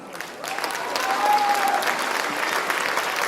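Audience at a school board meeting breaking into applause, building quickly from a quiet start into a full, steady roar of clapping with a brief whistle in the middle.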